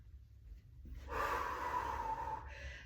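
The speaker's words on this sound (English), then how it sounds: "Again, we're gonna inhale here. Exhale." A single deep breath during a slow strength workout, a quiet intake followed by a longer, louder airy exhale, close and alone with no talking.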